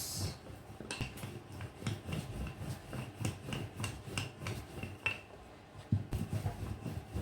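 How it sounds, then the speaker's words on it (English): A floured rolling pin works pastry dough for a beef mince pie in a steady rhythm of soft rubbing strokes, each one a brief scrape against the board, close up and without speech. "sprinkle some flour onto your rolling pin as well, and let's roll it out"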